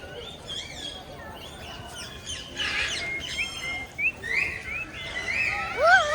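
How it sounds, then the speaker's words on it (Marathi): Several birds chirp and whistle in bursts at a zoo, some close and sharp, others farther off, with faint background murmur. "इकडे पण भरपूर सारे पक्षी आहेत"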